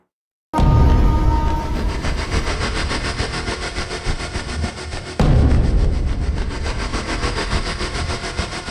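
A train rumbles loudly through a busy railway station, a dense continuous roar of wheels and engine that starts abruptly and surges again midway, with no voices heard.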